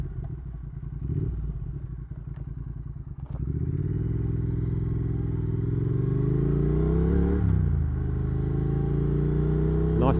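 A Triumph Thruxton R motorcycle rides quiet country roads near Bury St Edmunds. The engine is loud and close, with clattery idling that settles into a steady drone and then climbs through revs as the bike accelerates.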